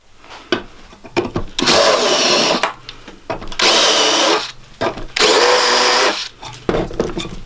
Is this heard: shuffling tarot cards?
no